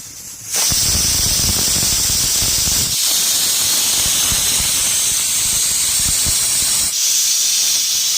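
A loud, continuous hiss of steam from a pressure cooker whistle on a gas stove, with a brief dip before the jet returns, close and steady.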